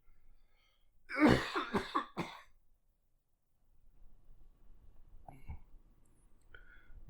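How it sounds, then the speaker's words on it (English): A burst of several harsh coughs in quick succession, close and loud, followed by quieter shuffling and a faint cough or two. "Just coughing nonstop"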